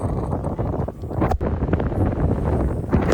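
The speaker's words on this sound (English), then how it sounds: "It's really windy here." Strong wind buffets the microphone outdoors in Lisbon, a loud, continuous rumbling roar with gusty surges and no talking.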